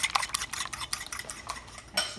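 Fork whisking eggs in a small bowl, quick rhythmic clinking taps repeating about four times a second, close and clear with no talking.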